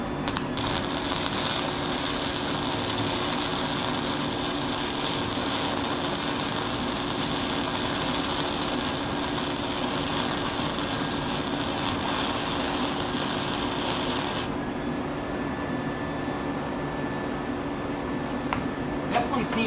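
Flux core welding on scrap steel, a steady loud crackling buzz with spattering that runs continuously for about fourteen seconds, then cuts out, leaving a quieter hum of background machinery.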